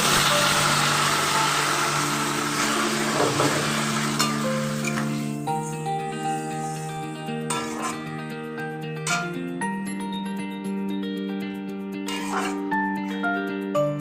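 Hot water poured into a sizzling pan of small-fish curry with new potatoes, aubergine, onion, tomato and chilli powder gives a loud, steady hiss for about five seconds, which then dies down beneath background music.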